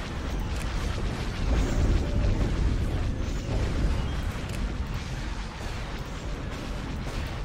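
Continuous starship cannon fire and explosions rumble through a space battle in Star Wars Empire at War, a dense, steady low-heavy barrage with no clear breaks.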